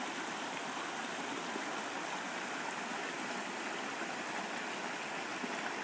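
Jacob's Fork creek in the South Mountains of North Carolina, flowing downstream into a pool, a steady unbroken rush of water, even and fairly close, with no voices.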